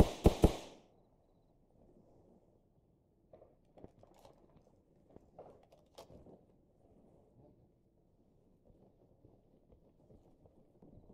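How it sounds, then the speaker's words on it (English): Mortar explosions in Arma Reforger on the island of Everon: two sharp blasts open, then faint, scattered distant thuds and crackles trail off in quiet surroundings. "Sounds more like a mortar to me than fucking avalanches."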